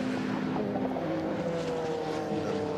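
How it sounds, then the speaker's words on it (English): Bentley race car at the Le Mans Classic speeding past, a loud sustained engine roar with a steady pitch that bends slightly as it passes, filling the clip without talk. "look at the speed of IRE in that Bentley now"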